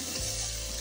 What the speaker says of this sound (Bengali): এদিকে ডাল ভাজা হচ্ছে